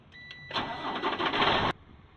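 A semi-truck tractor engine cranks and catches, a loud broadband roar holding for about a second before cutting off sharply, set against a quiet low hum.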